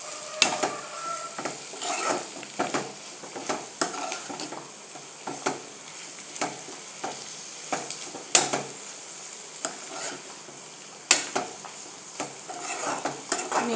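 A spoon scraping and stirring dondakaya (ivy gourd) curry in a pan after salt is added, with repeated sharp metallic taps and scrapes over a soft, steady sizzle, close and moderately quiet.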